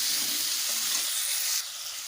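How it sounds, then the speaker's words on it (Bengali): Squash pieces seasoned with salt and turmeric fry in a pan with a steady, close hiss that drops slightly in level near the end; no one talks. "আমি কোয়াশেও সামান্য লবণ হলুদ দিয়ে ভালোভাবে ভেজে নেব"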